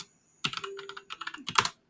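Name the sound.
typing on a computer keyboard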